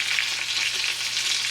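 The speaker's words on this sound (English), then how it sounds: "I'm turning off the heat, adding our paprika" Paprika hitting hot melted butter in a pan, a steady close sizzle and fry crackle running throughout, with a brief stir or clink right at the end.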